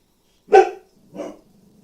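A dog gives two short barks indoors, the first louder and sharper, the second softer, separated by a brief pause in an otherwise quiet room.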